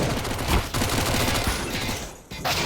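USP pistols fire in a Counter-Strike match on Overpass, a quick, loud flurry of overlapping shots that briefly dips before a final crack.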